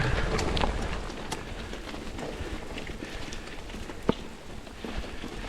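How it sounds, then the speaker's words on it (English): Hard rain falls steadily on a mountain bike trail in the Phoenix, Arizona area, a constant close patter and hiss with a few sharper drop ticks. "Yeah, it's raining pretty hard."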